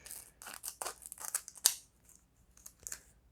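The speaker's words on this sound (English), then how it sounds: "I should probably use the scissors to open these packs." Scissors snip open trading card booster packs in a quiet room, a quick series of close, crisp cuts with foil crinkling between them.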